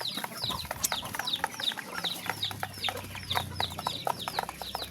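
Many chickens clucking and chattering close by at feeding time, a busy overlapping flock with frequent short calls and squawks against low background noise.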